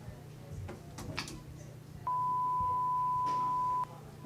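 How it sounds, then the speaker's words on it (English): A single steady electronic hearing-test tone sounds for nearly two seconds, clean and unbroken, after a few soft clicks and taps in a quiet room. "Whenever you hear the beeps, you're going to raise your hand"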